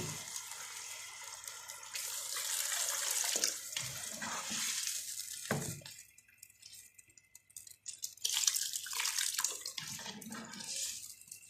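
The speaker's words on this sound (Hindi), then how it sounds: "ये हमने पानी डाल दिया।" Water pouring and splashing into a pot of dal mash in a couple of streams, with a pause, clinks, and dripping between pours.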